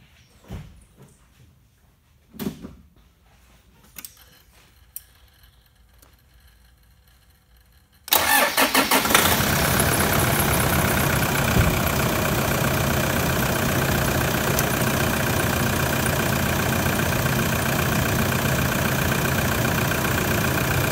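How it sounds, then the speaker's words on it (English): A car engine cranks and catches after a few quiet seconds with faint handling noises, then settles into a loud, steady idle that runs to the end. "I'm gonna go ahead and start the engine"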